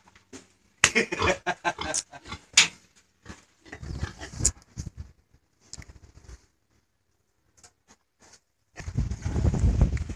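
A boar pig grunts and snorts in short irregular bursts while mounting a sow, with scuffling and hoof patter between the calls and a rougher, louder stretch of grunting near the end.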